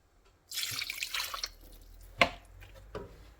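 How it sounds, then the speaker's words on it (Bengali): Two mugs of water are poured into a pot of beef cooking for kacchi biryani, a loud splashing gush followed by a sharp clink and a few softer drips, close by with no talk. "আমি পানি দিয়ে দিলাম এটা দুই মগ পানি দিব"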